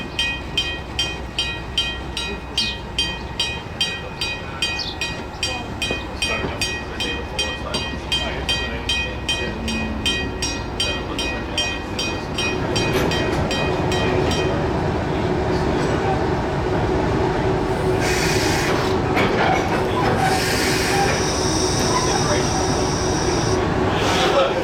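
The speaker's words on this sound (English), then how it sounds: "shunting to the station to collect the first passengers" Heritage DE class 511 diesel locomotive shunting passenger carriages at Moorhouse Station on a morning service, with a steady rhythmic clank of rolling wheels and couplings that builds into a louder, continuous engine rumble and rail noise.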